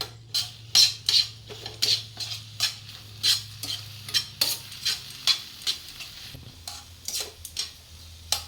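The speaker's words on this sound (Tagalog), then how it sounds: "Tapos lagyan na natin ng leeks. Tapos i-mix na natin." Vegetables and leeks are stirred in a hot pan. A utensil scrapes and clinks in a steady rhythm over a soft, continuous sizzle.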